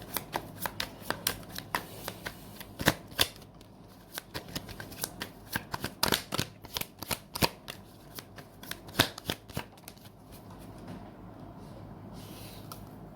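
Tarot cards are shuffled during a reading, giving a run of sharp, close riffling snaps and soft slides, bunched in quick bursts and thinning toward a quieter ending.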